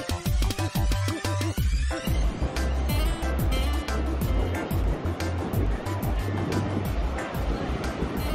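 Ocean surf rolls and hisses steadily on a windy beach, a loud broad wash of waves with wind buffeting close to the microphone.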